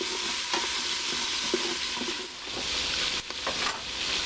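Butter sizzles in a chuck roast pot during deglazing, a soft continuous hiss broken by scraping and clinking stirring strokes, close and moderately quiet with no speech.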